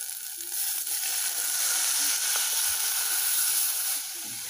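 Milk poured into a hot pan of white sauce for gratinated cauliflower sizzles and hisses steadily, close and bright, with faint stirring beneath.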